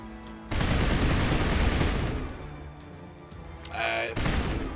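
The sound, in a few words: assault rifle firing high explosive rounds in Mass Effect video game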